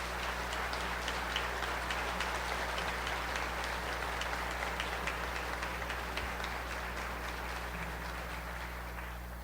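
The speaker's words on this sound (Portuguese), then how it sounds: "Dá uma salva de palmas para Jesus Cristo" Sustained applause from a large crowd at a Catholic charismatic renewal retreat in Cascavel, dense steady clapping that fills the hall evenly and fades slightly at the end, with a low hum underneath.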